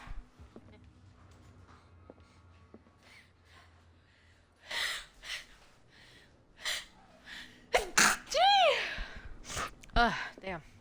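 A person nearby gives a build-up of sharp, breathy gasps and then a forceful sneeze with voiced, drawn-out cries after it. A few bursts come in quick succession over a quiet room background.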